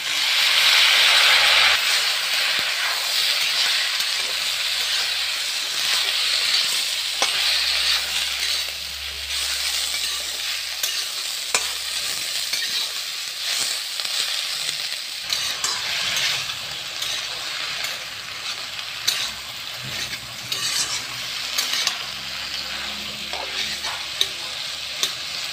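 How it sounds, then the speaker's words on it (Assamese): Moringa drumsticks sizzle and crackle in a hot pan while being stirred for a mustard seed curry. The frying hiss is continuous and close, with scraping stirs and occasional sharp pops. "এতিয়া অলপ ভাজি ল'লে ভাল হয় এতিয়া মই চজিনাখিনি দি দিছোঁ"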